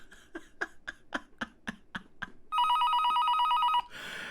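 A toy ray gun gives a rapid series of about ten electronic clicking bursts, then a loud, steady electronic telephone-bell ring lasting over a second, ending in a brief noisy burst.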